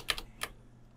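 A few quick, close keystrokes clack on a computer keyboard while a file is renamed in ANSYS Mechanical simulation software, followed by quiet.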